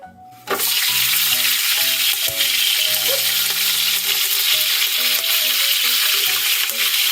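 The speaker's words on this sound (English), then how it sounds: "let's go ahead and begin sauteing our vegetable. I'm going to put in some oil here. I'm going to go ahead and add in my kaffir leaves right away." Kaffir lime leaves dropped into hot oil in a traditional Thai Lao aluminum pot burst into a sudden loud sizzle that carries on steadily, with occasional stirring clatter and no talk.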